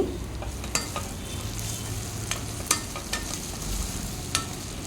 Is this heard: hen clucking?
no